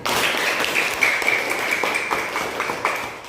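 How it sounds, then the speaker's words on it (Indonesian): Small group clapping for a child in a classroom, a brisk patter of hands with a faint tone lingering in the background. "kasih tepuk tangan buat Isan"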